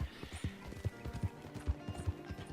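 Hooves of a poor-quality horse in Red Dead Redemption 2 clip-clopping in a steady, close rhythm of distinct low thuds, with faint game ambience underneath and no talk.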